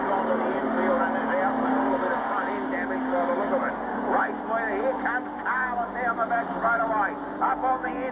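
Ford Cortina modified sedan race cars at Carrick Speedway roar through a steady engine drone, with the revs rising and falling as they pass, under continuous excited race commentary.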